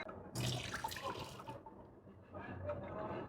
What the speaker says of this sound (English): and then we're gonna pour the water away.